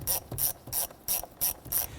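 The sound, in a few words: loosening hose clamp on Jeep air intake tube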